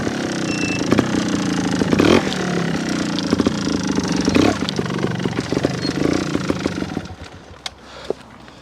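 A worn Honda Montesa 315R trial motorcycle with loose nuts and bolts being ridden, its engine revving and blipping up close with clattering rattles over several seconds before it quiets.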